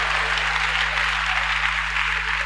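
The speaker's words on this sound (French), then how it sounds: "On peut l'applaudir s'il vous plaît" Church congregation claps together in a steady, even round of applause, with a low constant hum beneath it.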